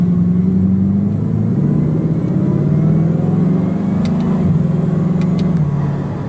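Bugatti Chiron accelerating near the Nürburgring, heard from inside as a loud, steady engine drone whose pitch rises and dips through gear changes, close and continuous.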